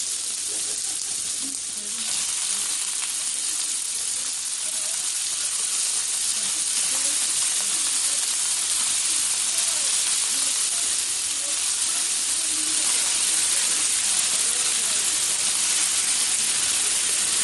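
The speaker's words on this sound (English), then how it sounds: "I'm going to sear these for a couple seconds" Lobster and shrimp sear in a hot pan, a loud, continuous close sizzle and hiss that holds steady throughout with faint crackles underneath.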